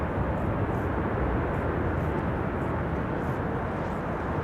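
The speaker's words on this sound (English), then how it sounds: "That's reversers being applied to hearing there." Boeing 737 arriving from Canada applying thrust reversers while landing on Schiphol's Kaagbaan runway, heard as a steady, loud broadband roar that holds level throughout without letting up.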